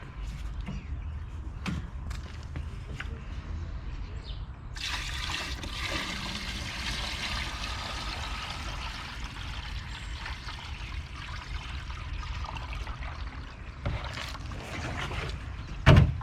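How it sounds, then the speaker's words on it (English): Water pours steadily into the tank of a battery knapsack sprayer, a continuous splashing and trickling fill that runs for many seconds at close range, ending with a brief knock. "And then we fill up with the remaining water."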